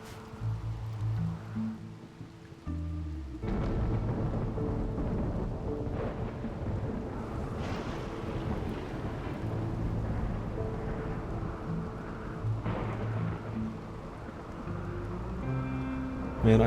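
Thunder rumbling after a lightning strike in the Rimworld video game, a long, loud, continuous roll with a sharp onset a few seconds in and a sustained storm-like rumble throughout.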